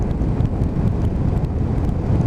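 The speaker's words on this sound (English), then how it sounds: "as you can tell from the wind noise, it is a very, very windy day" Heavy wind buffets the microphone on a BMW F800ST motorcycle out on a very windy day, a loud continuous low rumble with no voices.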